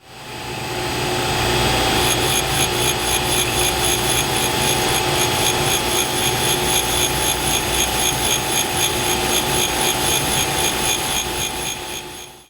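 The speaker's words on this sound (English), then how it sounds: "So now I'm going to turn this around in the grinder and grind off those first couple threads so the nut will work." A bench grinder grinds the first few threads off a metal music box arbor, a loud steady whining grind with a faint rhythmic pulsing that runs for about ten seconds with no talking.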